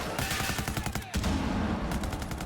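Rapid sustained LMG bursts in Rainbow Six Siege, dense rhythmic gunfire close and loud, with a brief break before firing resumes.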